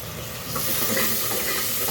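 Ginger, garlic and coriander paste sizzling in hot oil in a pan for a village-style chicken curry, a steady close hiss with light stirring scrapes and no talk.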